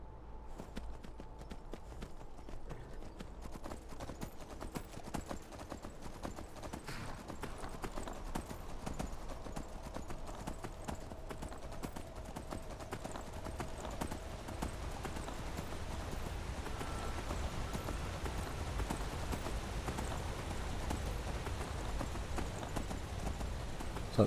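Horse hooves clip-clop steadily and continuously while riding in a fantasy role-playing video game, a constant rhythmic stepping that runs throughout alongside soft ambient game background.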